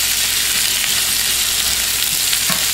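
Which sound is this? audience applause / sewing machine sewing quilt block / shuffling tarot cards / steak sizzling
steak sizzling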